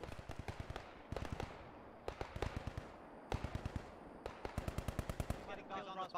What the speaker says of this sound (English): These guys are shooting some long, long distance shots.